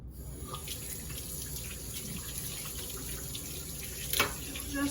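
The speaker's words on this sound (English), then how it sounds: "let me rinse my hand off a minute" Tap water runs steadily into a sink while someone rinses flour-and-dough residue off a hand during sourdough bread making, a continuous close hiss with a brief louder splash near the end.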